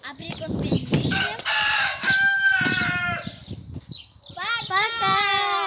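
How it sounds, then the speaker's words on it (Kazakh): Chickens roam a rural yard, clucking and crowing repeatedly at close range, with a voice and other speech mixed in among the bird calls. "Міне біздің тауықтар жайылып жүр."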